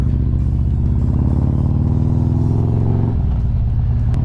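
A motorcycle engine revs hard and loud at close range, a dense sustained roar with rhythmic pulsing, dropping to a lower idle burble in the last second.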